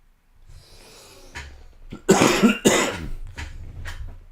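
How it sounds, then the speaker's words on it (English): A person coughs several times up close, a couple of harsh bursts followed by smaller throaty coughs and breathing. "I'm gonna cough a second here."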